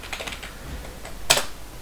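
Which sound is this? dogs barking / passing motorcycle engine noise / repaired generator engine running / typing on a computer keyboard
typing on a computer keyboard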